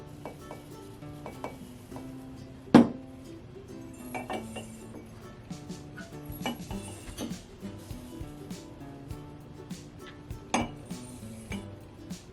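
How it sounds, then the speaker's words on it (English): Dry rolled oats scooped into glass mason jars, with clinks of measuring cup against glass and soft rustling pours, spread across a quiet kitchen scene with one sharper knock. "I'm going to be putting 1/3 cup of my oats in the jars"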